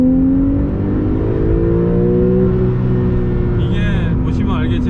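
Porsche 911 Carrera T with a seven-speed manual pulling hard in second gear, a loud interior engine drone with rising pitch held steadily, and a brief high whine near the end.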